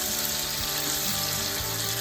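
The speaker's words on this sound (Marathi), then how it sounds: "कांदा थोडा लालसर परतून घ्यायचा आहे" Sliced onion sautéing in a pan for soyabean pulao, a steady, close sizzle and crackle of frying with a constant hiss throughout and no talking.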